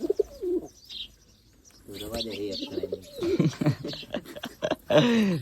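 Pigeons coo in throaty, warbling bursts, several overlapping close by, with short pauses between calls.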